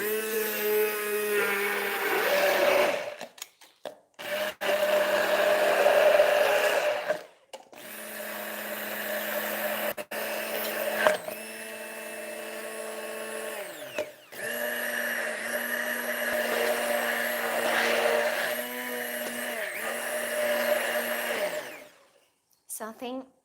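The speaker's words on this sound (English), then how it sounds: "I'm using a hand blender because it's easier" A hand blender purees cooked pear with yogurt for popsicles. The motor whines in several loud bursts separated by short pauses, with the pitch shifting as the mixture thickens.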